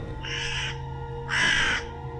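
A large bird gives two loud, harsh crow-like caws over a low droning background within a horror audio story, the second cry stronger than the first.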